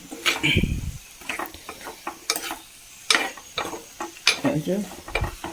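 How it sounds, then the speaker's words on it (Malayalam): Two drumsticks drop into a pan of softened, sizzling tomatoes and get stirred, with scattered clinks and scrapes of the spoon over a quiet sizzle in short, uneven bursts. "നമുക്ക് മുരിങ്ങക്കായ ഇട്ട് കൊടുക്കാം. അതിലേക്ക് ഒരു 2 മുരിങ്ങക്കായാണ്."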